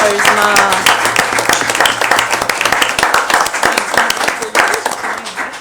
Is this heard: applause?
yes